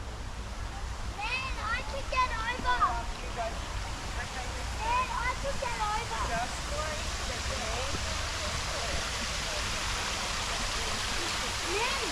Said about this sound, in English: The theme of the garden, Tsukiyama Chisen, or mountain pond stream, is reflected in the water feature of the garden.